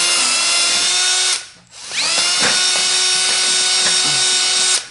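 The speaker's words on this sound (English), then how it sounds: "go up and down a couple times with the drill running so that the hole is clean" A power drill bores into wood with a loud, steady whine and grinding bite, stopping briefly then spinning back up and continuing, close by with no talking.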